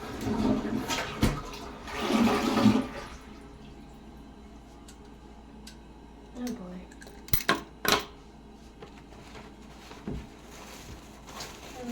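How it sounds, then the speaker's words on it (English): Leftover old tea poured into a toilet and then flushed, with some splashing, clinking of a cup or dish and a rushing of water, close and moderately loud, with sparse clatter afterward. "I'm gonna put this out in the toilet."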